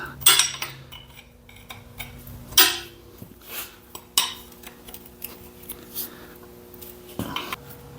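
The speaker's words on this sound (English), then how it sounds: "I'm using my hand wrench to take these nuts off" Metallic clinks and scrapes of a hand wrench working nuts off the brakes of a Ford 9N tractor, a few sharp irregular clanks separated by quiet pauses, close and alone amid a faint steady hum.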